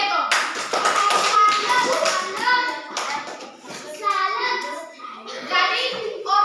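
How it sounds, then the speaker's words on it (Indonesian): Children in a classroom clap for a classmate in uneven bursts, the claps mixed with children's voices and chatter, moderately close and rising and falling over a few seconds. "Tepuk tangan untuk Diego"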